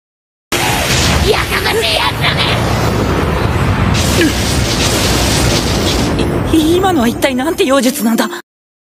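A magic attack blast is fired in an animated story, a sustained roaring boom with whooshing bursts across most of the clip, and voices and shouts mixing in toward the end.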